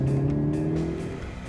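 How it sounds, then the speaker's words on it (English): A 2019 Hyundai Veloster N with its 2-liter turbocharged four-cylinder driving the front wheels pulls hard under acceleration, a steady loud engine drone with rising harmonics that eases slightly toward the end. "The N's 2-liter turbocharged mill flings plentiful power to the front tires."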